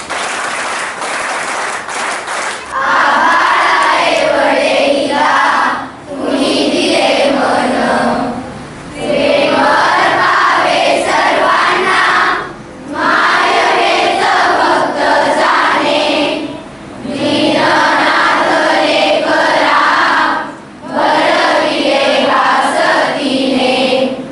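An audience at a Raksha Bandhan programme at a hostel in Satara applauds to welcome the dignitaries on stage, with several long bursts of dense clapping separated by brief lulls, loud and full.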